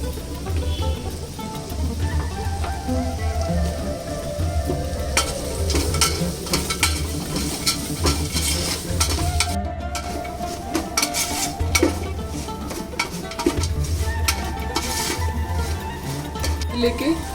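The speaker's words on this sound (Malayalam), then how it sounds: "ഇനി നമുക്കിതിലേക്ക് സവാള ചേർക്കാം." Onions sautéed in oil for Salem biryani make a loud continuous sizzle, with scraping stirs and occasional clatter of a utensil against the pan close by.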